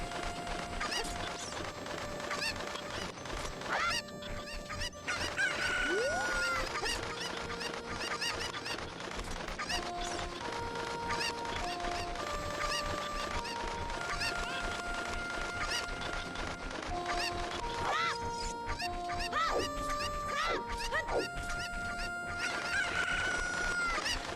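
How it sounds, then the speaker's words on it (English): Chickens cluck and squawk in the game The Legend of Zelda: Ocarina of Time, with bright tonal game sound effects and clattering noises throughout a dense, continuous mix. "Can we walk backwards with the chicken?"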